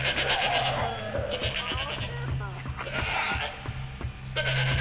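A goat bleating in the Shadow of the Damned game, wavering cries repeated several times over a low droning game soundtrack, with someone talking in Spanish over parts of it.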